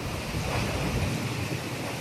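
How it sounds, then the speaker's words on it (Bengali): Dense, steady roar of a strong storm wind in China, gusting up to 100 km/h, buffeting the microphone, a broad rushing noise with no voices, loud and continuous throughout. "বয়ে গেছে শক্তিশালী ঝড়ো বাতাসও"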